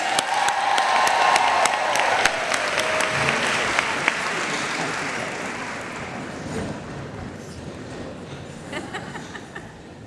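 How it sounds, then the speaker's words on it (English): A convention audience at a Pilot International general session in Rochester, New York claps together in a long, steady burst of applause that stays loud throughout, then gradually thins and softens over about ten seconds. "clap your hands."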